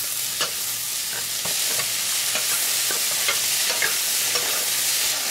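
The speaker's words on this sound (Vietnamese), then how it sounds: "Rồi đến nấm, xào sơ như vậy giúp rau củ thơm hơn khi hầm đó các bạn." Celery and mushrooms stir-fry in a hot pan, a steady close sizzle and crackle with scraping stirs of a utensil throughout, the quick sauté before the vegetables go into a beef stew.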